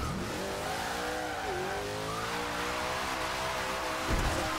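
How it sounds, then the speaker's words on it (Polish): Powerful car in the racing game Forza Horizon 2 burning rubber, its loud, steady engine roar rising and falling in pitch while tires squeal near, with no talk over it. "To auto ma taką moc, że ono pali gumę dosłownie, kiedy ja nie muszę nic totalnie robić."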